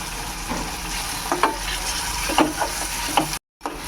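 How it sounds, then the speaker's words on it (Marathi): Tomato and onion sauté in a pan for surnachi bhaji, an Indian yam dish, with a steady close sizzle and several distinct scrapes of a spoon stirring, ending in a short dropout. "टॅमॅटो पण कांदासोबत परतून घ्यायचं आहे"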